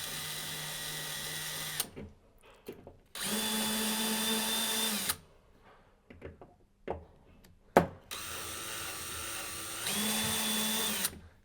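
Cordless drill driving bolts on an Aladdin EasyFit isolator housing fitted onto pipework, three sustained whirring bursts broken by short pauses with clicks and handling noises.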